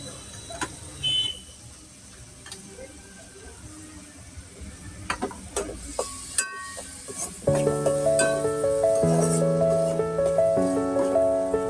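Chopped capsicum tipped into mushrooms already frying in a pan, followed by a loud steady sizzle and scraping stirs, with scattered clinks beforehand and a tonal hum layered over the frying.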